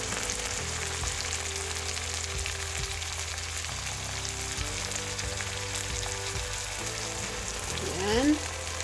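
Pork steak simmering in a pan with soy sauce and vinegar, a steady soft sizzle and bubbling that holds evenly throughout, with a brief clatter of a utensil near the end.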